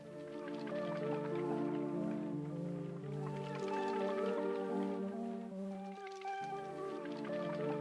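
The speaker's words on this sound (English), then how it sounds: "I picked this synth right here" A synthesized tone played in FL Studio with effects, with a wet, dripping, bubbly texture shifting through several pitches, playing continuously and fairly loud with no voices.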